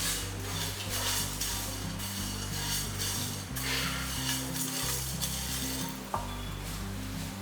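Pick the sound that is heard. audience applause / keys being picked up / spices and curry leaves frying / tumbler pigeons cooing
spices and curry leaves frying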